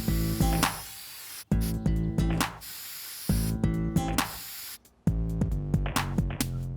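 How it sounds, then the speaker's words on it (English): Spray paint hisses from an aerosol can in repeated bursts of about a second each, with short pauses between them, loud and close with no talk. "Why don't we spray paint one and see how it looks?"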